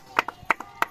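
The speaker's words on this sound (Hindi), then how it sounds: "ताली बजाइए, ताली बजाने की है।" Hands clap at a subscriber celebration party, three sharp double claps in a quick, even rhythm, close and clear with no talk.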